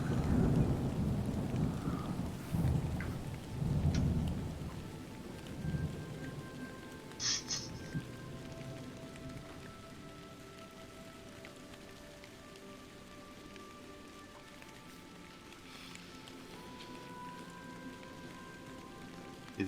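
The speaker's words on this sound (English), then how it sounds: "Is this you or is this rain?" Steady rain patters on a surface while low rumbles of thunder roll early on, then fade into a continuous soft downpour.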